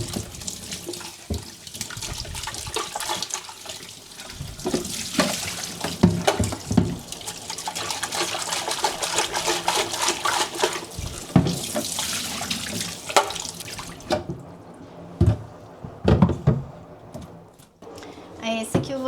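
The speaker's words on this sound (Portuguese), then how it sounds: "Esse aqui eu vou só esvaziar porque ele não suja, é água limpa." Clean water is poured out of a container at home while rugs are being washed, a splashing, running pour that stops and starts irregularly, with faint speech in the background.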